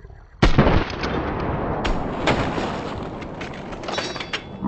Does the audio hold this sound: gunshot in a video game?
yes